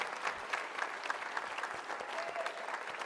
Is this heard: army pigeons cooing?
no